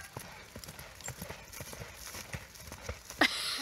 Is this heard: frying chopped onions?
no